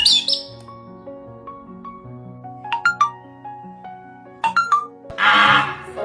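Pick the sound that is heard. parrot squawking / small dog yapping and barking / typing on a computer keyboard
parrot squawking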